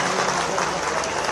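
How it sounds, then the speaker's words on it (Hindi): A crowd at a public event in Indore applauds to welcome Madhya Pradesh's chief minister, a steady, dense wash of clapping filling the whole moment without pause. "एक बार जोरदार तालियों से आप मुख्यमंत्री महोदय का"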